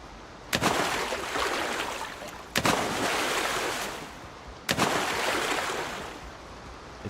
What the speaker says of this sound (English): It's a nice looking waterfall, isn't it?